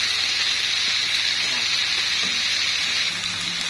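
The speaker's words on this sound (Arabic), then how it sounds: "هنا حبايبي نزلنا بالفلفل" Peppers sizzle and fry steadily in a hot pan while cooking Syrian shawarma, a continuous close hiss with faint stirring clatter and no talk.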